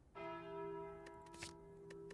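The Calling Bell relic in the video game Slay the Spire rings once with a clear, sustained metallic bell tone that slowly fades, followed by a few soft clicks.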